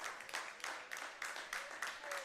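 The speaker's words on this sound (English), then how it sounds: "Fans clapping along." Baseball fans in the stands at an Intercounty Baseball League game between the Hamilton Cardinals and London Majors clap in a steady rhythmic pattern, bursts of applause repeating regularly, moderately distant and soft.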